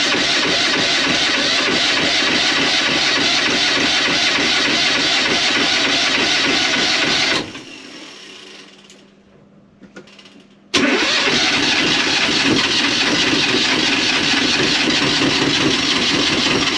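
A boat engine in Fiji's Yasawa Islands runs loud and steady up close, cuts out for a few seconds into near quiet, then restarts abruptly and settles back into a constant idle.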